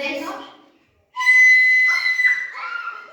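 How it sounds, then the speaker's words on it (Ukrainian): A sopilka, a Ukrainian wooden fipple flute, plays a held high note that then bends and wavers, following a brief voice, during a children's music lesson. "Що це за музичний інструмент? Сопілка, правильно."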